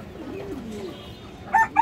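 Pigeons in a loft where birds are being sold, with low cooing through the background and two brighter calls near the end, fairly close.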